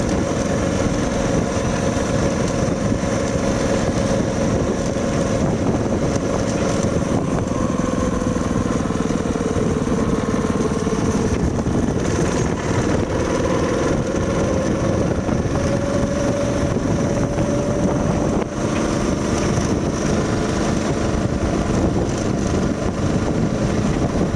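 A homemade rail speeder cart rolls along railroad tracks with a loud, steady motor drone and rumbling wheel noise that holds constant throughout, close up and without talk.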